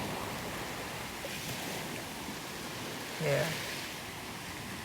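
Waves crashing on an early-morning beach in St. James on Barbados' west coast, a steady broad wash of surf with one slightly louder surge, and a brief word spoken over it.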